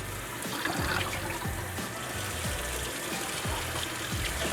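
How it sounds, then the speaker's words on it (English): Tap water runs steadily into a wash basin being filled for a nursing-skills bed bath, a continuous trickling pour with some low bubbling, fairly close and alone without talk. "You want to make sure that your water is filled up to 3."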